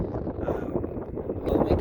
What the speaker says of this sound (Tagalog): Ayan, mahangin talaga